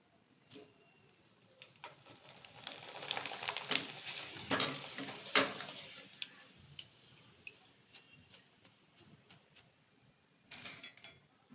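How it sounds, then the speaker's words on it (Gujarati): Thin potato wafers fry quietly in oil, making a soft sizzle that swells and fades, with scattered light clicks and taps from a utensil in the pan. "આ રીતે વેફર હવે થોડીક હજી તળી લઉં"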